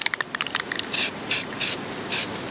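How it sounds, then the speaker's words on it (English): An aerosol can sprays in four short hissing bursts, close and fairly loud, after a series of quick rattling clicks at the start. "just give it a light spray"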